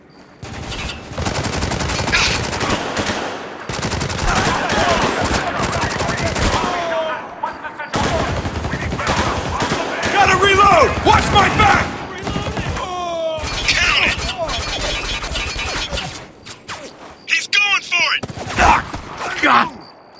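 Gunfire crackles in the video game Spec Ops: The Line, with loud bursts of automatic fire, single shots and shattering impacts, while voices shout over the combat.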